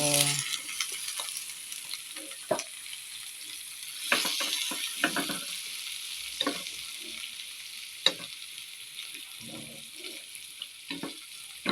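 Chopped bottle gourd (opo) goes into a hot pan for a Filipino sautéed opo dish, giving a steady close sizzle of frying with scattered stirring clatters and utensil scrapes, no talking over it.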